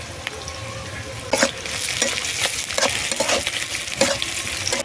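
Panch phoron spices and chopped onion fry in hot oil in a wok, making a loud, steady sizzle broken by repeated scraping clicks of a spatula stirring close by.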